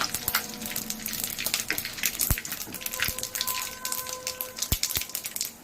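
Mustard and cumin seeds crackle and pop in hot oil in a kadai, giving a dense, irregular spatter with several sharp louder pops, close and without talk.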